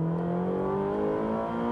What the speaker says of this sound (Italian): Scarichiamo tutta la potenza del motore e tutte le marce fino alla sesta